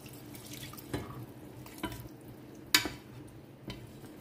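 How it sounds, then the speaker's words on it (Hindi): Water is poured into a pot for dill leaf (shepu) rice pulao. Soft splashing and trickling are broken by a few light clinks, all fairly faint. "तो अब इसमें डालते हैं पानी।"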